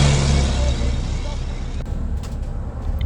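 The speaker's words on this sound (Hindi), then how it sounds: "एक पुराना भारी ट्रक घर घर की आवाज करते हुए आगे बढ़ते चले जा रहा है।" An old heavy truck rumbles along a foggy road on a cold December night, giving a loud, steady low engine drone that fades slightly after the first moment.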